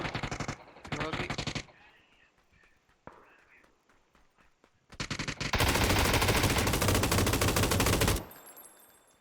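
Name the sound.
automatic gunfire in a video game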